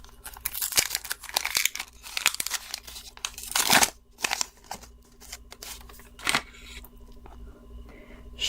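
A collectible doll-style action figure being pried from its cardboard and plastic blister card, heard as close crinkling, tearing and crackling bursts that come in irregular clusters and die down toward the end, with no voices.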